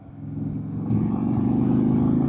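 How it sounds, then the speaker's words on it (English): A 2024 Indian Super Chief Limited cruiser motorcycle with the 116 V-twin engine runs and pulls, a deep throbbing rumble that swells louder partway through and holds steady, close and without talk. "this thing sounds amazing, man. This 116's gotta be my favorite engine out right now."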